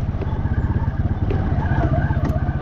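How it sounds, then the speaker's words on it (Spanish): A motorcycle bounces over a rocky hill trail in the hills of Jalisco, its engine thumping in a steady rapid pulse up close and loud, with brief rattles and knocks from the rough ground. "está bien piedrudo y la moto rebota bastante"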